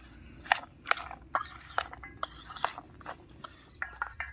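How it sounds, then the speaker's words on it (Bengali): Spices stirred into vegetables in a bowl for a rice-and-chana-dal tiffin, giving irregular scraping clinks and crunchy mixing strokes, close and fairly quiet, with no speech. "আমি এই মশলাগুলোকে খুব ভালো মতো মিশিয়ে নিচ্ছি"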